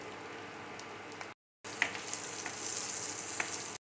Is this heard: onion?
yes